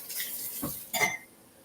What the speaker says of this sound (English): I already used the whisk on the dough, so I just got to rinse it off a bit here.